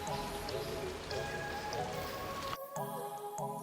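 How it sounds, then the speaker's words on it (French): Light rain falls on a rainy day, a soft, continuous patter with scattered drips. A brief drop-out comes partway through, and faint background sounds run beneath. "aujourd'hui c'était un jour de pluie, à peine réveillé, le mauvais temps était parmi nous"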